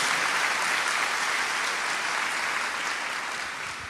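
Loud, dense applause from a church congregation fills the space, steady clapping that gradually tapers off at the end.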